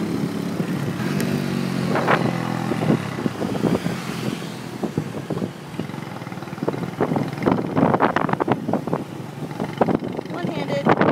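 A motorbike carrying a small child rides along a busy street, its engine buzzing close by amid passing traffic, with wind buffeting the microphone and voices talking throughout.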